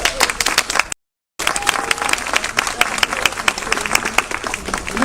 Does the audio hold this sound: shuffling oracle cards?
no